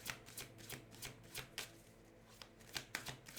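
Tarot cards are shuffled and drawn, with quiet, close papery riffles and flicks in irregular bursts.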